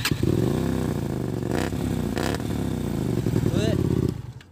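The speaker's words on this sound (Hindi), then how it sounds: "तो अभी इसका आपको नॉर्मल साउंड सुनाता" A second-hand Hyosung superbike with an aftermarket exhaust runs close by, a loud, steady, deep engine rumble with a slight rev midway before cutting off at the end.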